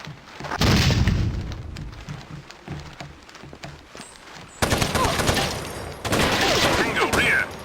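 A grenade blast booms loudly in the video game Rainbow Six 3 on Nintendo GameCube, followed by sustained gunfire bursts and further heavy impacts, with voices calling out over the combat.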